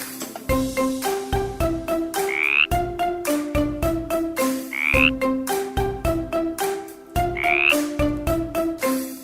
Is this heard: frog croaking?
yes